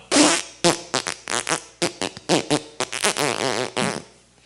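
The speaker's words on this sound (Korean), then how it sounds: "방귀뀌어도 여러분 이해하세요?" Loud, close farting in a rapid sputtering series of about a dozen short bursts, each one separate with brief gaps between them, tailing off at the end.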